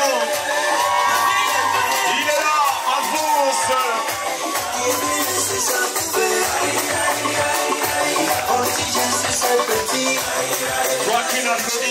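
A live audience cheers and claps loudly and continuously over driving music and singing, a dense, unbroken crowd roar filling the whole stretch.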